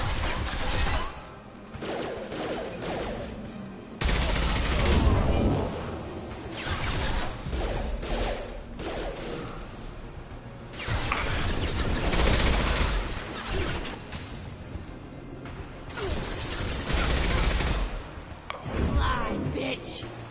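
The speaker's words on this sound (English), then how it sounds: "I'm getting good with the sniper rifle on here." Sniper rifle fire in Mass Effect 2 on PS4 comes as loud, heavy blasts in repeated bursts, separated by quieter stretches of game ambience, with a player's voice occasionally talking over it.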